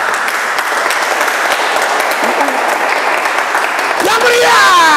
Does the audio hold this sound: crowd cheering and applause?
yes